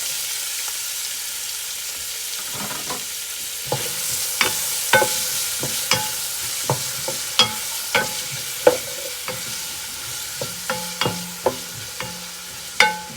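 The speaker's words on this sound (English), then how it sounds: "gonna let this saute for about 2 minutes" Onion and garlic sauté in oil in a pot for Filipino spaghetti sauce, with a soft sizzle under repeated clear clinks and scrapes of a spoon stirring against the pot.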